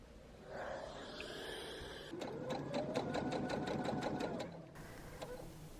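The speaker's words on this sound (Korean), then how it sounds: "재봉틀로 상침을 해줍니다" A sewing machine topstitches a garment neckline in a steady rapid burst of stitching for a couple of seconds, with quieter handling noise before and after.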